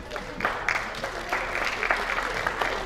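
An audience at a Hindi comic poetry gathering applauds, with steady clapping that swells in waves for about three seconds.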